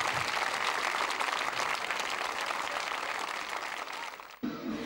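An audience at an Azerbaijani culture concert in Cannes claps warmly after a performance, steady dense applause at moderate distance that tapers slightly before cutting off near the end.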